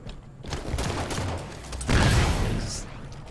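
Gunfire in a capture-the-flag match of the video game Fathom: a dense, continuous rattle of shots and blasts running throughout, swelling louder in the second half.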